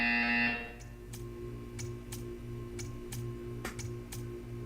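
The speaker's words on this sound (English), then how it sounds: "You will hear a buzzer." Buzzer in the video game Portal, a loud harsh tone in the opening half second that cuts off, followed by faint sharp ticks over a low humming background.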